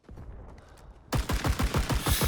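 An M1 Garand rifle in Rising Storm 2 fires a rapid string of sharp, loud shots; faint distant pops lead into a dense burst of close gunfire with echoing tails.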